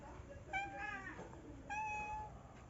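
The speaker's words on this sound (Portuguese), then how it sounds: "São gatos da vizinha que vem pra cá todos os dias." A neighbour's cat meows twice, two clear, drawn-out calls a second apart, close by over a faint background hum.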